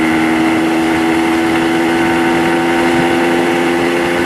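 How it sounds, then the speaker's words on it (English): A 1976 AMF Harley Davidson Aermacchi SS 250 two-stroke motorcycle riding at about 60 mph, its buzzy engine droning in a steady, continuous hum, loud and close throughout with no talk over it. "we're going at about indicated 60 miles an hour"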